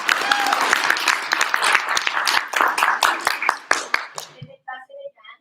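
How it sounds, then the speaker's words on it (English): An audience at a 2023 Three Minute Thesis competition heat gives a sustained round of dense clapping that thins out and stops after about four and a half seconds, followed by a brief voice. "Let's give her another round of applause."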